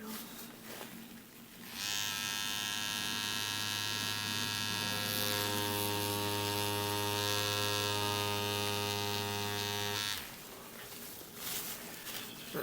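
A tattoo machine needle buzzes steadily for about eight seconds while a flower design is practiced, a loud close electric drone with a humming tone that starts and stops cleanly.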